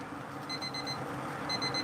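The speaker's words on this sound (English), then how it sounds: "There goes the timer." A kitchen timer alarm goes off in two bursts of rapid, high electronic beeps, four or so quick pips each. The beeps are fairly faint and sit over a low room rumble.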